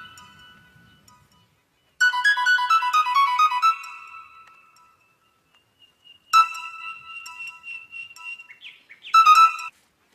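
Mobile phone ringtone, a bright chirping, bird-like electronic melody playing in two loud bursts separated by a few seconds of silence, near and clear with no talking.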